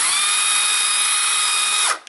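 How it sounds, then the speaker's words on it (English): A power drill bores holes in a garage ceiling to mount a bracket for a Chamberlain MyQ smart garage hub. A loud, steady high whine runs for nearly two seconds, then winds down abruptly, with no talking. "I'm going to drill those holes"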